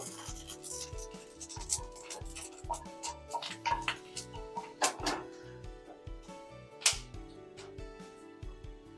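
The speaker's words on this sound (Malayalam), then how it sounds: "കടുക് പൊട്ടിത്തുടങ്ങി." Mustard seeds crackle and pop in hot oil in a pan while coconut is readied for roasting for a Kerala-style curry, a steady stream of sharp close ticks and pops with a few louder bursts.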